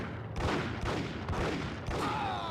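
Rifle gunfire in the video game Max Payne, several loud bursts of shots in quick succession over a noisy game soundtrack.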